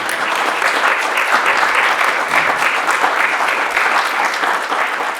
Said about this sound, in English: let's give these two lovely ladies a big round of applause, please